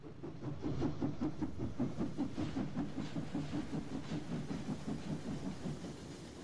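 Steam locomotive in Landwirtschafts-Simulator 19 chugging steadily, a loud, continuous rhythmic puffing and rumbling with clickety-clack of wagons, heard alone throughout.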